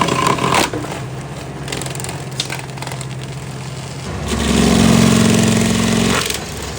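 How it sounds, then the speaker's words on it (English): A stump grinder chews into a tree stump with a harsh, steady grinding and crunching over its droning engine, swelling louder and heavier toward the end. "And here you see the hungry stump grinder searching for its"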